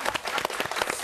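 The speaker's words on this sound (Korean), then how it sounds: "박수." A quick burst of audience clapping, close and distinct, with individual claps audible in an uneven patter lasting about a second.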